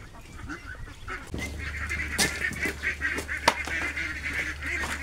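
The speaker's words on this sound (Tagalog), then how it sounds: "Kakainin na natin itong ating mga alagang sisiw ng itik." Six-week-old Muscovy-type ducklings quacking and honking in a busy chorus while being fed, close by and continuous, with a low steady hum underneath.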